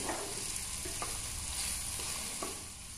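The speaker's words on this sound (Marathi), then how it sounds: "भेंडी बारीक चिरलेले असल्यामुळे हे लवकर होणार, थोडंसं आपण फ्राय करून घेऊया" Finely chopped okra stir-fried in a pan, with a steady, close hiss of frying and a few soft scrapes of the spatula at irregular intervals.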